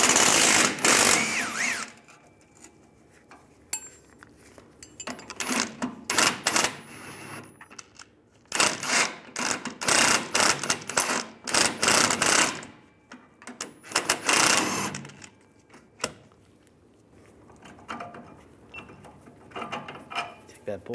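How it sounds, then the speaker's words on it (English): Wrench and socket work on the lower rear shock bolt of a 2007-2013 Chevrolet Silverado 1500, with bursts of metallic ratcheting and clanking in several separate runs between quieter pauses. "Take the lower shock bolt out."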